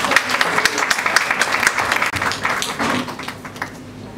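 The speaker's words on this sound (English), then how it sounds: "A big round of applause for Sarah Aga" An audience at a corporate International Women's Day event applauds, a dense loud wash of many hands clapping that carries steadily through the moment.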